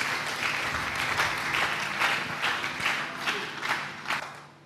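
A church congregation breaks into applause during a sermon, a full, sustained wash of many hands with sharper claps standing out at a loose, regular beat before it begins to fade.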